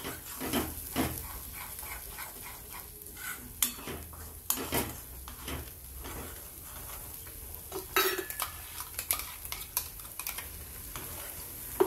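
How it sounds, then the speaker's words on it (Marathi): Turmeric and kasuri methi being stirred in a frying pan, a spoon scraping and tapping the metal in an irregular rhythm over a steady low sizzle, close and moderately loud. "थोडीशी हळद, थोडीशी कस्तुरी मेथी, छान हलवून घेऊ।"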